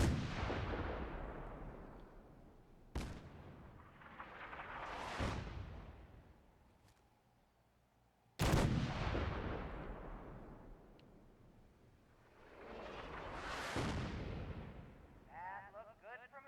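Heavy artillery fire in Fallout 4: about five booming blasts arrive in irregular succession, each with a long, rolling rumble that fades away before the next impact.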